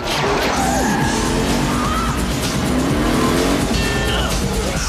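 The Gadget Mobile car from Inspector Gadget roars away at speed with a steady, loud engine rush and faint tire squeals threaded through dense noise, with no voices.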